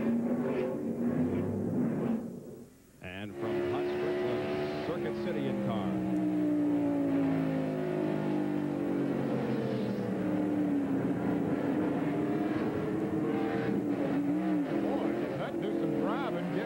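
Onboard engine of Mark Martin's NASCAR race car in the 1997 Exide Batteries 400, a loud close roar with shifting pitch, a sudden dip near three seconds, then steady howling under a commentator's voice.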